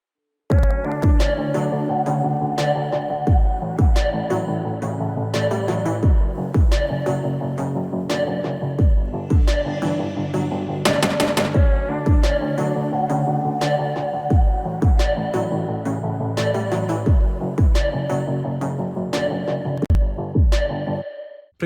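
A pop song verse built in FL Studio, with a steady beat and sustained synth and bass chords, and a snare that repeats with an added delay on every other hit. It plays loud and continuous, with no talking.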